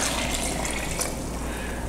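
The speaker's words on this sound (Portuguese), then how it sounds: "Vamos colocar no copo do liquidificador e vou colocar meio litro de água." Half a litre of water poured into a blender jar, a steady, close rush of filling liquid with no break, running evenly from start to finish.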